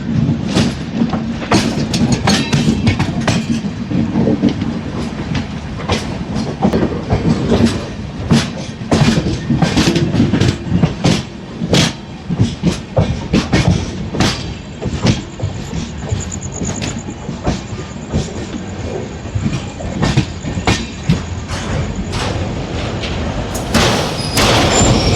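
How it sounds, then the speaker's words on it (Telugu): Train wheels of the Padmavathi SF Express clatter over rail track joints on the approach to a station, a loud, dense run of rhythmic clacks and rattles rolling on steadily with no talk. "ఇక్కడ ట్రాక్ జాయింట్లు ఉంటుంది కాబట్టి స్టేషన్ ముందర కొంచెం సౌండ్ అయితే రావచ్చు,"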